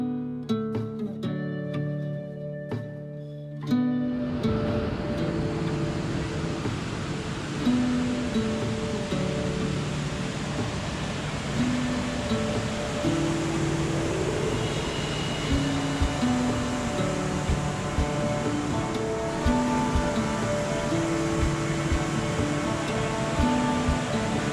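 Steady roar of waterfalls and Lake Superior surf at Tettegouche State Park on Minnesota's North Shore, a continuous broad wash heard alone after a brief opening of music.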